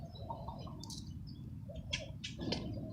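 Outdoor birds give a few soft coos and chirps while being fed bread, with brief calls standing out over a low steady background hum.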